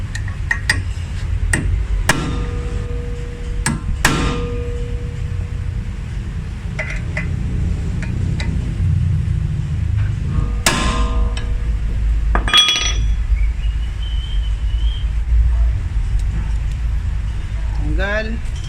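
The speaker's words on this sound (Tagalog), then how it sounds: "pupukpukin ko lang ng konti yung Phillips screw" Sharp metallic clinks of a hammer striking a Phillips screw on a car's rear wheel hub, a handful of separate taps spread over the stretch, with people talking between them.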